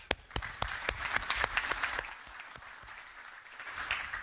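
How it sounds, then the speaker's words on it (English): Audience applause at an off-road equipment industry symposium, a fairly small crowd clapping with sharp individual claps standing out, swelling then thinning toward the end. "So, round of applause."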